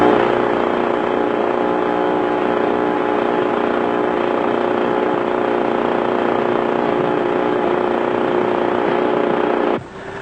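Engine number 1 of an aircraft runs with a loud, steady droning roar, a constant mechanical whir with strong tonal hum that holds level for about ten seconds before dropping off abruptly at the end.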